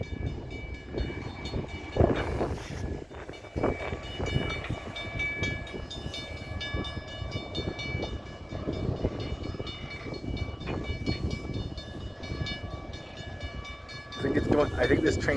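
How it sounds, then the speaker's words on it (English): CN freight train rolling through a railroad crossing, a loud steady rumble of rail cars with clattering wheels and a horn sounding near the end, heard close by. "I think this train's going into the yard."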